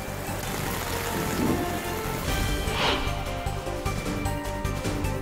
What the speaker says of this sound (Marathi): पंढरपूर शहर परिसरामध्ये मेघगर्जनेसह मुसळधार पाऊस पडलाय।